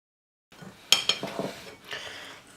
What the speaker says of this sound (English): now all we have to do is to mix everything together till it forms a paste